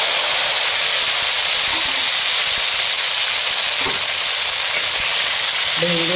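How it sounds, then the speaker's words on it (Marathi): Stuffed masala okra frying in a pan: a loud, steady broadband sizzle and hiss that runs unbroken throughout, with no voices. "एकदाच हलवून 2 मिनिटासाठी ती फ्राय व्हायला ठेवून द्यायची आहे"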